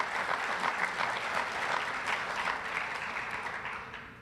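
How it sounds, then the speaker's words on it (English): Sustained applause from a conference audience at a healthcare quality meeting, dense steady clapping at fairly close range that fades slightly toward the end, with no voices over it. "It's huge, yes, worthy of clapping."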